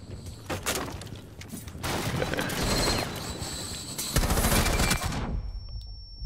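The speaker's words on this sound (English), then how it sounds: "That was a grenade." Grenade blast in the game Rainbow Six Siege, loud close bursts of crashing, rattling noise that swell in waves and then cut off abruptly into near silence.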